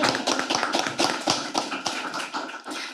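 An audience at a panel discussion applauding a speaker: dense, steady clapping from a roomful of people, close and moderately loud, tapering off toward the end.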